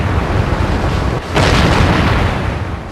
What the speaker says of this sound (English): At 4:40 a.m. on March the 21st, 1918, German artillery began firing.